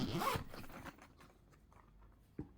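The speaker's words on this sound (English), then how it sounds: "It's a hard-shelled carry case. Also has a zipper here. So let's open it up." A zipper pulls open on a hard-shelled carry case for Meze 109 Pro headphones, one quick close zipping burst followed by quiet handling and a couple of soft clicks.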